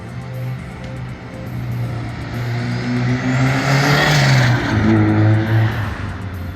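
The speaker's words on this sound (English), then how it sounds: "you basically only hear the turbo until the car is like past you, and then you hear the exhaust" A turbocharged Mazda Miata with a Honda K24A2 engine drives past, its rising turbo whistle sweeping over a steady engine drone that swells as it nears and then fades.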